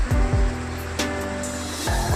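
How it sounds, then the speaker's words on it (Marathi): A waterfall in the monsoon-season ghats near Shahapur pours into a gushing stream, giving a continuous broad rush of water up close, broken by a few low knocks and thumps. "पाण्याचा खळखळाट, मनाला आनंद देणारा"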